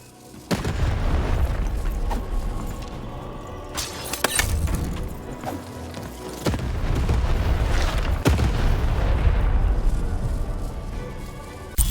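A cannon booms in the fantasy video game Lost in Random. Heavy, loud blasts with shattering and crashing debris sit over a dense, continuous game soundscape, and there is no talking.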